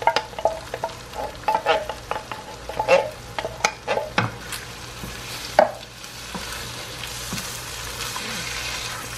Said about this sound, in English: Mix all of this up real well.